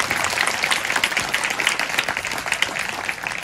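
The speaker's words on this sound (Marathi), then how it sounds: "त्या प्रभूसाठी परत टाळ्या वाजवा आपण" A church congregation applauds during an evening worship gathering, dense steady clapping filling the room from start to finish, loud and close, with no voices over it.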